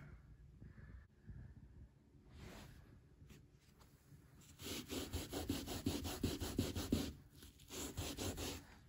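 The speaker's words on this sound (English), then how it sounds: "So it takes a little bit of scrubbing to get the parts off that it missed" A floor scrubbed by hand to lift leftover dirt after a robot mop, rhythmic back-and-forth rubbing strokes growing louder midway, close and alone without talk.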